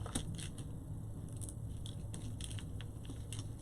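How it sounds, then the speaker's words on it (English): Several quick ratcheting zips as a plastic zip tie is pulled tight through the holes of a mesh wreath board, crisp clicky bursts over a low background hum. "you go down one hole, up the other, and zip your zip tie tight until you hear that zip and it's locked"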